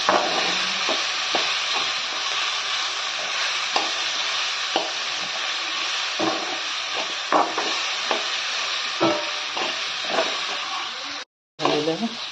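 Tomato and coriander roasting in a pan, sending up a steady broadband sizzle that runs throughout, broken by frequent scraping stirs and light clinks, with a brief cutout near the end.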